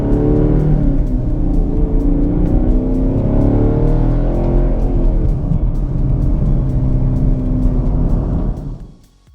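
A Chevrolet Camaro 1LE track car pulls away, its engine loud and close with a deep, rising and falling drone through gear changes, then fading sharply at the end.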